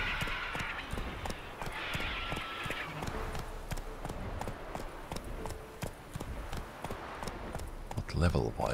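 The horse Roach gallops in the video game The Witcher 3, a steady rhythmic clip-clop of hooves throughout, with someone speaking over it and a brief louder sound at the end.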